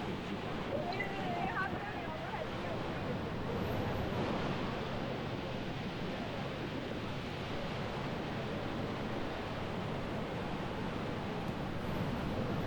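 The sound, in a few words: Niagara Falls water falling, heard from a cruise boat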